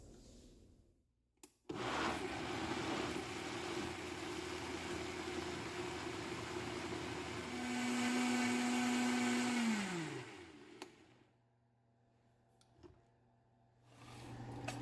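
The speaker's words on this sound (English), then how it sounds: "So now I'm going to blend this." A countertop blender runs steadily through a yellow squash pie filling with vanilla, a loud continuous whir that rises in pitch before winding down and stopping, followed by quiet kitchen handling noises.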